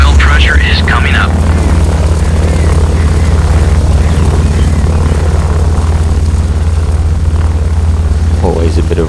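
A B-17 Flying Fortress engine starting up in an FSX A2A flight simulator, a steady loud propeller drone and low engine rumble that runs throughout while someone talks over it.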